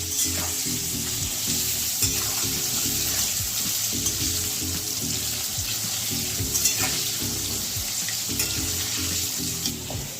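Potatoes fry with turmeric and salt in hot oil in a pan, a loud continuous sizzle with rhythmic clanking stirs repeating every couple of seconds, no talking.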